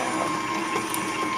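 Sunbeam stand mixer running its flat beater through butter, giving a continuous, fairly loud motor hum and rattling churn at a constant level, with no voices.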